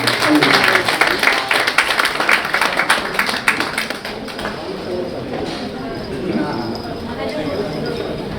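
A mushaira audience in New York applauds to welcome a visiting poet from Pakistan. Loud, busy clapping fills the first half, then thins and fades beneath a voice.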